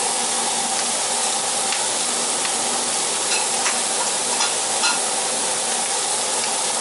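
Continuous loud sizzling of a T-bone steak frying in a hot pan, a dense crackling hiss with occasional small pops, no voices.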